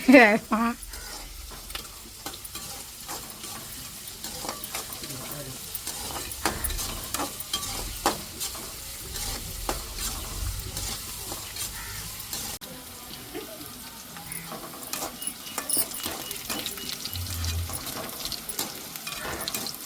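Dried chillies fry in hot oil for a fish curry, giving a continuous soft sizzle with intermittent stirring and scraping clatter, plus faint background voices.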